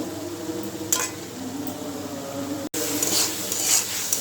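Spice masala paste for a small-fish chorchori is fried in a pan, giving a steady low sizzle with scraping stir strokes and a few brighter clinks of utensil against the pan.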